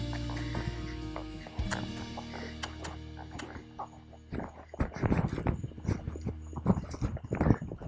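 A large horse trots off under a rider during a riding lesson, hooves clip-clopping in a fairly steady rhythm that grows louder and busier in the second half, close by over low background hum.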